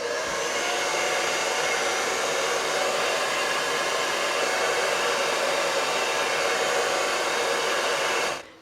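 A hair dryer blows steadily and loudly for about eight seconds while hair is blow-dried and straightened, then cuts off at the end, with no talking.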